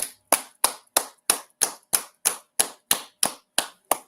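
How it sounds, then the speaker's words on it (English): Slow, evenly spaced sharp claps, about a dozen single crisp hits roughly a third of a second apart, each ringing briefly, close and loud with silence between them. "Clap it up"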